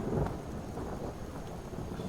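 Rain pours steadily through a thunderstorm in the video game Skyrim, with a low rumble of thunder swelling at the start and then fading back under the constant broad hiss of falling rain.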